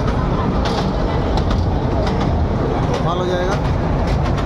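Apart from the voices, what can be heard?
toy train running to Elephanta Caves, Mumbai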